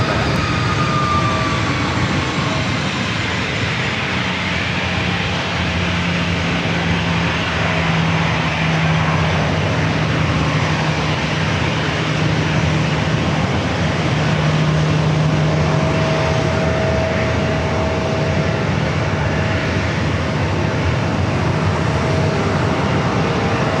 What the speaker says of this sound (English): this Delta A321 heading to Atlanta